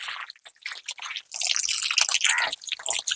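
Water poured and splashed over a pet dog named Daymon during a bath, irregular close splashing and dripping that grows denser and continues without a break.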